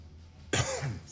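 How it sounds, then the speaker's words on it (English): A single sharp, close cough bursts out after a quiet moment, followed by a brief throaty rasp, loud and right up against the microphone. "Cough right into the microphone."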